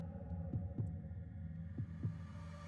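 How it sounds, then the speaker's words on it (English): Heartbeat sound effect played under a tabletop role-playing session, a steady low double thump repeating about every second and a quarter, close and prominent over a faint hum. "You guys can hear the sound of your heartbeat."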